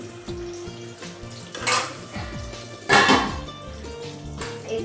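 Gram-flour-coated eggplant slices frying in hot oil, a crackling sizzle with clattering utensil knocks and metallic scrapes against the pan, two louder bursts of spattering, close by.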